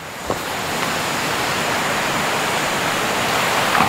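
River flowing beside a campsite at a nature camp in Perak, a steady loud rushing wash of water that stays even throughout with no talk.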